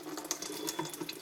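Water with a pH of 11.5 runs from a gray tube into containers, a steady, fairly quiet trickling and splashing stream with no talking.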